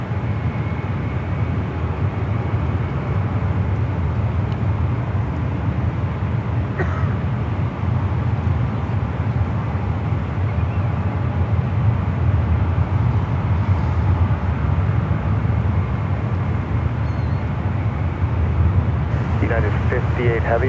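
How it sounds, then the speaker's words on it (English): A British Airways A380 airliner passes overhead near San Francisco airport, a steady broad low rumble of jet engine noise that holds loud and even throughout, with faint radio chatter and voices in the background. "the British Airways A380 is directly over the Bay Bridge"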